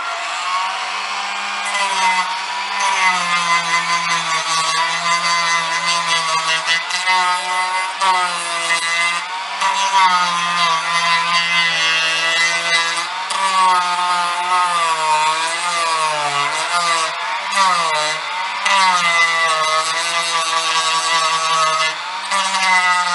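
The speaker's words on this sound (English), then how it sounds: "I'm going to go ahead and mill off all of the excess material here." A rotary tool mills excess material off a Ruger 10/22 M1 carbine stock, a loud continuous high whine with a wavering pitch that dips and rises as the cutter bites, running without pause throughout.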